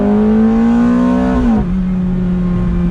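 A Ferrari F430 engine pulls hard on a highway, a loud, close, rising tonal drone that climbs steadily, then drops sharply as the gear shifts and settles at a lower pitch.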